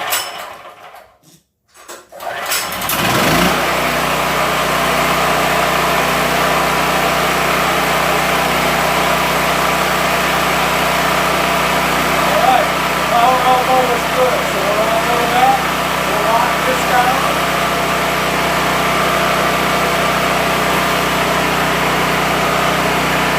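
A Kohler Pro 5.2 portable generator running on propane starts up and settles into a steady, loud engine drone with a low hum, while a voice speaks faintly in the background.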